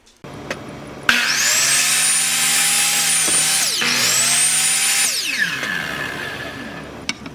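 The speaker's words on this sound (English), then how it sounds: "Then use a miter saw to cut out those 3 foot long pieces." A power saw spins up with a loud whine, cuts for a few seconds, bogs briefly, then winds down. It fits a miter saw cutting three-foot wooden boards for a bookshelf, heard close with no speech.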